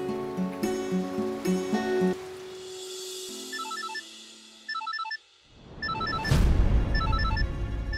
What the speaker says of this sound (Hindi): जय सर का फोन और वो भी इस वक्त